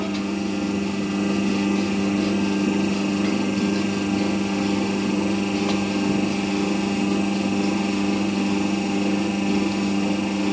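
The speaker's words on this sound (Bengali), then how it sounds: "এই লিভারটাকে জাস্ট আমি আবার একটা আঙুল দিয়ে তুলে দিলাম, মেশিন আমার অটোমেটিক উঠে গেল।" A hydraulic slipper cutting machine runs steadily in a workshop, giving a continuous motor hum with a constant tonal drone and no talk.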